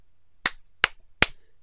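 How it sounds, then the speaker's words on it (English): Three sharp hand claps mark an edit point during a one-take voice recording, evenly spaced about 0.4 seconds apart, close and crisp against a quiet room with a faint low hum and no talking. "clap 3 times, and then go back to the point where you should have said something different"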